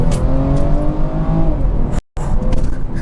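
A BMW 340i with the 330-horsepower B58 engine pulls hard from inside the cabin, a loud continuous engine drone rising in pitch, then a brief cut before it carries on strongly.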